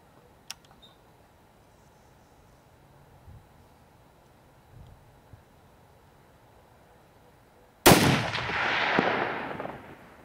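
A rifle shot fired while zeroing with a spotter, one sharp loud crack near the end after quiet, followed by a broad rolling echo that slowly fades.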